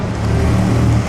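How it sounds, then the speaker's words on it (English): An Aston Martin driving past during the Mille Miglia classic road race, a loud, close engine drone with a steady low rumble over a brief moment, no voices. "Aston Martin coming."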